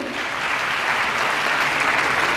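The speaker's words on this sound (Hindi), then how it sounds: "तालियां बजनी चाहिए" An audience at a medal ceremony claps for students being honored, a loud, dense and steady burst of applause throughout.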